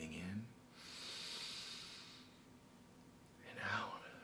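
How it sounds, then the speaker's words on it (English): A single slow, deep breath drawn in through the nose during a guided breathing exercise, soft and airy, close to the microphone in a quiet room. "Breathing in"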